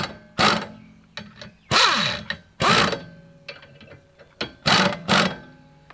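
A bolt-type puller pulls a brake drum off a car, giving several loud mechanical bursts of grinding and ratcheting metal with short pauses between them, close by and with no talk.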